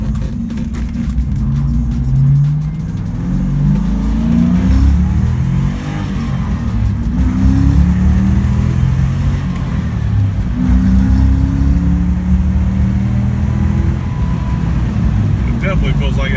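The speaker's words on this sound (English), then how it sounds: "So I'm gonna test the car out here in just a minute and see how it acts." A 1996 Ford Mustang Cobra engine on a test drive, a steady loud rumble with rising and falling revs over road and wind noise, heard from inside the car.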